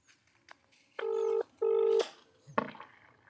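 Phone call tones sound on a call to a Kisan Mitra mobile motor starter that runs a farm water pump. Two steady, close beeps are followed by a few short clicks and blips.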